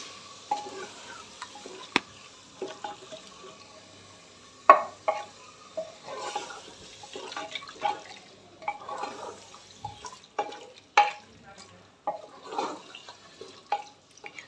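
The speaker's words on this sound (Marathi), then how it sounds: "मसाला आणि वजडी एकजीव करून घ्यायचं आहे." Vajri (goat tripe) being stirred with masala in a pan, giving irregular close scraping and wet clacking strokes with faint sizzling underneath, no talking.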